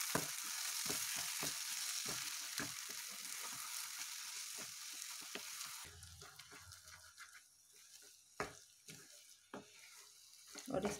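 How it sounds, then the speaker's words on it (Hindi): Green peas are roasted in a pan over a low flame for a halwa, giving a soft, steady sizzle with frequent scrapes and taps from continuous stirring, and the frying fades partway through. "इस तरह से लगातार चलाते हुए मटर को अच्छे से भूनेंगे"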